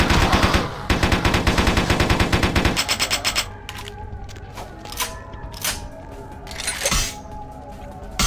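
Rapid automatic gunfire in a first-person shooter game, a loud continuous burst of shots for about three seconds, then scattered single bangs and impacts over game ambience.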